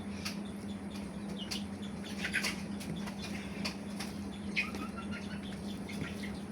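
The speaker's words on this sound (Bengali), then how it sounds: "মুরগির কিচিরমিচির আওয়াজ শোনা যাচ্ছে পাখির মতো" Young chicks chirp behind a house in soft, scattered peeps over a steady low hum, faint and somewhat distant throughout.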